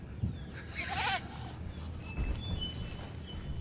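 A goat in Jurassic World Evolution gives one short wavering bleat near the start, over a low ambient rumble with faint game sounds afterward.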